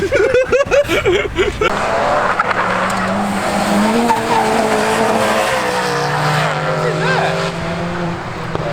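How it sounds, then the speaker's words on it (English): Race car tyres locking up and skidding in the rain on a wet circuit, a loud, sustained screech with engine roar that runs through the whole stretch. Tyre smoke is pouring off, and a voice is heard briefly at the start. "locked up, tyre smoke everywhere"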